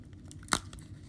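Heavily taped mail package being torn open, a single short ripping burst near the middle over a low background hum.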